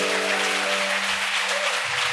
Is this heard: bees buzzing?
no